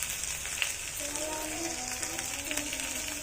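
Pasta sauce is poured into a hot pan and stirred, giving a steady close sizzle and crackle throughout, with a faint voice murmuring underneath.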